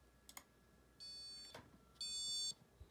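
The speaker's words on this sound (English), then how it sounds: "our device is clearly going off, alarm." Pet caller prototype device sounding its alarm: two bright electronic tonal beeps of about half a second each, separated by a short pause, fairly faint against a quiet room with a few small clicks.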